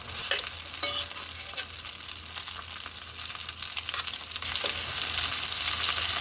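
Dongeurangttaeng patties of minced meat, some with chili pepper sides, sizzle in a pan with a constant crackle and a couple of stirring or flipping sounds, the frying growing louder and brighter near the end; no talking.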